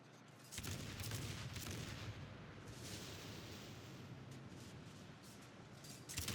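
Naval cannon fire from cruisers, including a Des Moines, during a World of Warships battle: a dense, sustained barrage of booming shots blending into a rolling rumble that swells near the end, with no speech.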